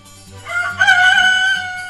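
A single hen call rings out clearly, a drawn-out crowing cry rising then holding, close and loud with little background.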